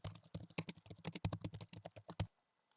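A computer keyboard clacks with quick, close keystrokes as a command is typed, about twenty distinct taps in an uneven rhythm, then stops into near silence.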